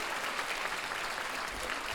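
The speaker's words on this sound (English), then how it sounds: "go ahead, round of applause." An audience at a yoga and MS wellness talk gives a soft, steady round of applause, faint and somewhat distant, with continuous clapping and no voices on top.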